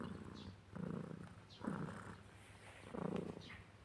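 A cat purring up close in a slow, steady rhythm, each breath cycle swelling and fading as a soft rumbling pulse, with no talking.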